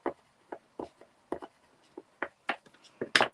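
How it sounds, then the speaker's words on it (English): A watercolour pencil scribbling on paper in short, separate scratchy strokes, about a dozen quick rasps close by with brief pauses between them, no voice over them. "So I'm just literally scribbling."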